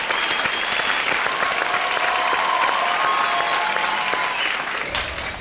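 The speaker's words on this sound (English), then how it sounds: "A round of applause for these entrepreneurs." A studio audience at a grand finale show claps for entrepreneurs, loud dense applause running steadily throughout and easing off at the very end.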